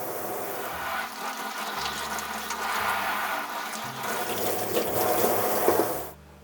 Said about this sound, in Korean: 흐르는 물에 잽싸게 씻어줘야 되거든요